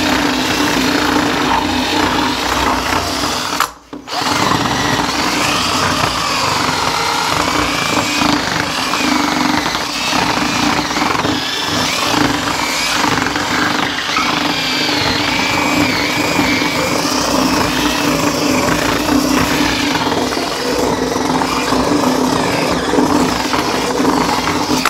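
A jigsaw cuts wood to fit a door latch during a Portuguese farmhouse ruin renovation, giving a loud, steady, rough buzzing that runs for about 25 seconds with one brief break near the start.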